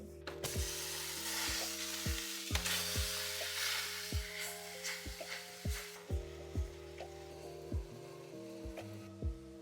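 Minced chicken sizzles softly in a pan of its own fat under background music with a steady beat, the frying hiss continuous and fairly quiet.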